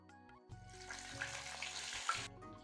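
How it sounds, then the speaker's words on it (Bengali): Green chili and ginger paste, ground on a grinding stone, sizzles and spits in hot oil over tempered spices, with a steady broadband hiss swelling through the middle and occasional stirring scrapes near the mic. "এবার আদা আর কাঁচা লঙ্কাটাকে নেড়ে চেড়ে ভেজে নেব।"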